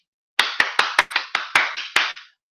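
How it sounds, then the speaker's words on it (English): About ten sharp, separate hand claps ring out in an irregular rhythm, each loud and close with a short echoing tail, surrounded by silence. "Hand clap."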